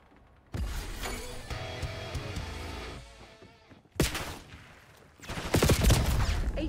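Bursts of rapid automatic gunfire and sharp impacts from Black Ops 6 multiplayer, loud and close. A sustained volley fades out, then a sudden crack sets off heavier, denser fire toward the end.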